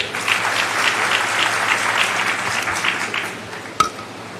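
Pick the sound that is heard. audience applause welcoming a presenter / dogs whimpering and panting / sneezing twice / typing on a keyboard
audience applause welcoming a presenter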